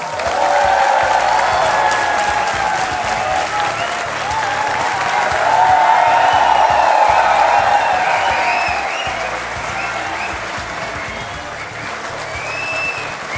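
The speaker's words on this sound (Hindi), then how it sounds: "और ये तालियां इसी तरह बजती रहें" Studio audience applause greets Punjab Chief Minister Bhagwant Mann on a television courtroom-style talk show, loud and sustained dense clapping with some crowd noise that swells in the middle and eases slightly toward the end.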